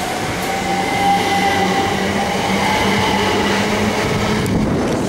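Southeastern Electrostar electric train pulling out of Minster station, a loud, steady rumble of wheels and traction hum close by, with a faint high whine and light clatter throughout.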